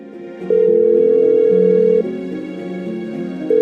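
Telephone ringing unanswered in the video game Rosenberg, a steady electronic ring tone that starts loud, steps down to a softer tone, then returns, with no talk over it.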